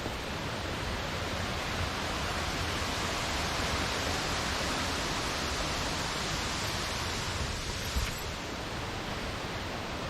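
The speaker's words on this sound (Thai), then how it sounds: "ผมก็ถึงน้ำตกชั้นที่หก ชั้นที่หกแล้วนะครับ" Krating waterfall, a 13-tier waterfall in Chanthaburi, at its sixth tier: a steady, loud rush of falling water fills the whole stretch as a dense broadband roar, with no voices over it.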